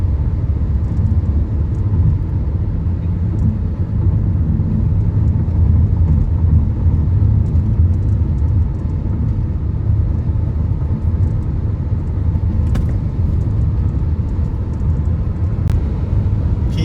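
A car cruising along Thailand's Motorway 6 between Korat and Pak Chong gives a steady, loud low road rumble and engine drone, unbroken and even throughout with no talk.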